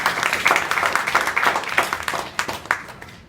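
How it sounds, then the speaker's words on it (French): An audience at a church gathering claps in a brief, scattered burst of applause, moderately close and fading toward the end. "Sur vos applaudissements,"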